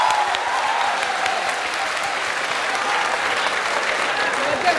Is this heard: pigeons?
no